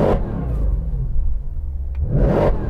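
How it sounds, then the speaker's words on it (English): A tuned Mercedes-AMG C63 Black Series engine blips loudly up close, a sharp rev at the start, a deep idling rumble, then a second hard rev near the end. "The way that revs up, look at that rev, Karen."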